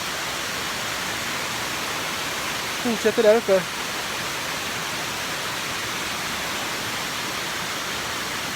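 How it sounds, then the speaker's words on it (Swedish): Steady broadband roar of a large waterfall on a mountain trekking route up the Imbachhorn in the Alps, constant and loud throughout, with a brief spoken remark heard over it midway. "Det är ett rätt sjukt vattenfall."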